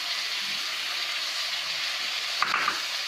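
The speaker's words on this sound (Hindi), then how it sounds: "गाजर डालेंगे, मटर डालेंगे, शिमला मिर्च डालेंगे" Carrots, peas and capsicum fry for Schezwan fried rice in a hot pan, giving a steady close sizzle with a few faint clinks near the end.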